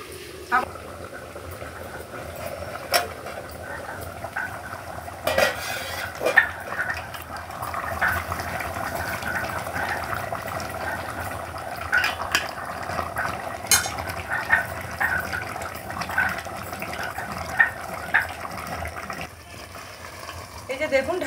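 Mutton gravy simmers in a pot over a low flame while it is stirred, with soft bubbling, scraping and occasional clinks of a spoon against the pot under ongoing talk.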